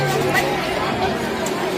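Crowd of women chattering at a Jitiya vrat puja, a dense, steady hubbub of overlapping voices close around throughout.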